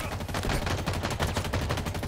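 Rapid automatic gunfire from the video game Halo Infinite, a dense stream of shots firing steadily for about two seconds, fairly quiet, with no talk over it.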